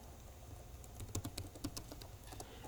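Fingers tap on a computer keyboard in a short, quiet burst of keystrokes, a quick irregular patter of clicks in the middle of an otherwise hushed moment, with no talking.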